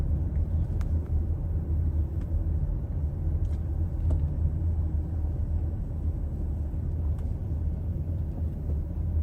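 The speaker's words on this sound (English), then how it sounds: "That's like a New York City garbage truck, I'd say." A New York City Department of Sanitation garbage truck engine on Broadway, a steady loud low rumble and drone that carries through the whole stretch with faint traffic noise over it and no talking.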